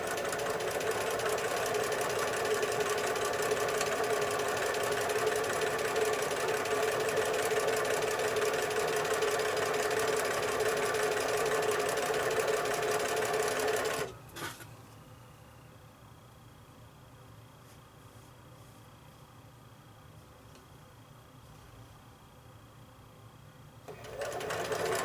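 Sewing machine stitching quilt pieces together for a disappearing nine-patch block: a fast, steady mechanical whir running close for about fourteen seconds, then a stop and near silence before the motor starts again at the end.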